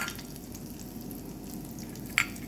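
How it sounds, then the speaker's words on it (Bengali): Dry red chilies and nigella seeds sizzle in hot oil in a kadai as tempering for a small-fish dish. A soft, steady hiss runs throughout, with one brief sharp click near the end. "এবার যে তেলটা আছে তাতে আমি দিয়ে দেব শুকনো লঙ্কা, কালো জিরের ফোড়ন,"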